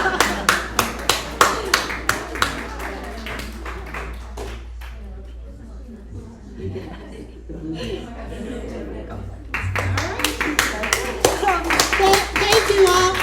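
Audience applause at a book reading and author conversation: bursts of rhythmic clapping open and close the stretch, with people talking and chuckling in the quieter middle.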